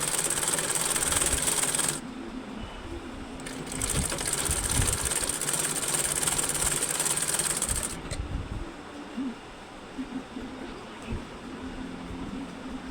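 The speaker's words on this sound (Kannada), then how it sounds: "ಇನ್ನೊಂದು ಪಾರ್ಟ್ ಕೂಡ ನಾನು ಅದೇ ಥರನೇ ಸ್ಟಿಚ್ ಮಾಡ್ಕೊಳ್ತಾ ಇದ್ದೀನಿ" A sewing machine stitches a cross belt in fast continuous runs, its loud whirring hum broken by brief pauses between bursts of stitching, with quieter mechanical clicks and handling in the gaps and no talking.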